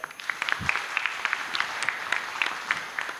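An audience at a finance investment seminar claps steadily, giving a dense run of sharp hand claps from many people through the whole stretch, with no talk over it.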